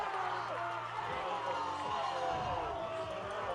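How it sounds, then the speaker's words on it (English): Roaring crowd noise at a high school football game in a packed stadium during a late fourth-quarter third down, a dense, sustained din of cheering voices, with a commentator talking over it. "That's the crowd noise."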